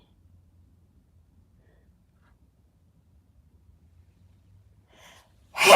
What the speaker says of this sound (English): That was the sneeze